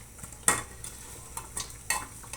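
Meat sautés in its own fat without added oil for a pochero-style dish, with light sizzling and a few sharp utensil scrapes and taps against the pan at irregular intervals.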